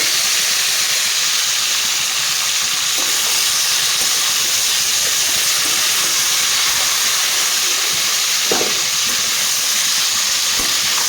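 Raw plantain pieces fry in oil with salt and turmeric, giving a loud, constant close-up hiss and sizzle with a few faint pops and no talking.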